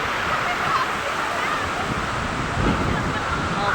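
Overflowing water at the Ghodazari reservoir rushes in a steady, powerful roar that fills the whole stretch without a break.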